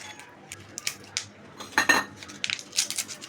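A metal utensil scrapes and clinks against a pan as fried fish is lifted out, giving a string of sharp, irregular knocks and clatters close by with short pauses between them.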